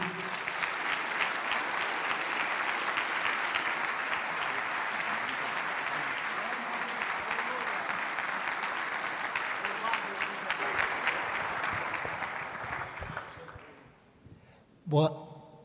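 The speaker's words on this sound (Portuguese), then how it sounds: "Vamos aplaudir a Jesus?" A church congregation at a Sunday morning service applauds, a long, full round of clapping that holds steady for about thirteen seconds before fading out, followed by a brief voice.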